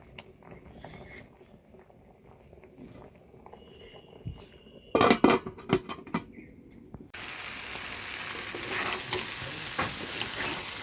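Pieces of meat fry in a pan as four whole garlic cloves go in, for a Bengali dish of meat with chana dal. Close stirring clatter and scraping come first, then a steady, louder sizzle fills the second half.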